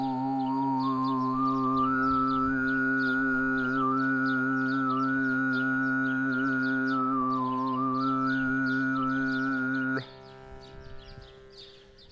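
A sustained 11th harmonic tone, pitched about a quarter tone off the nearest semitone, hums steadily and loud for about ten seconds, then cuts off abruptly into near silence.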